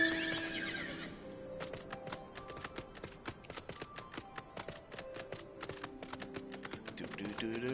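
A golden horse mount in Final Fantasy XIV gives a whinny at the start, followed by rapid keyboard typing and clicks with game music tones layered underneath.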